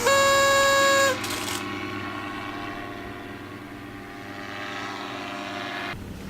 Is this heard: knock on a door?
no